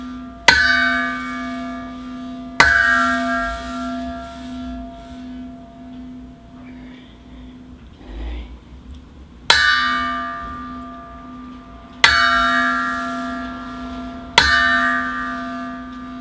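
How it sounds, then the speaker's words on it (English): Resonant gong strikes ring out with long, shimmering decays during a rehearsal of a ritual performance, one set of blows spaced about two seconds apart, a quiet pause, then three more evenly spaced strikes, with no talking. "gong sounds."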